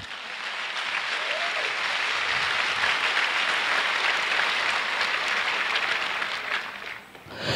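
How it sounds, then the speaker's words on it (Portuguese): Sustained applause from a church congregation praising the Lord during a worship service, a dense steady wash of many hands clapping that holds for several seconds before briefly dipping near the end. "dê um aplauso ao Senhor"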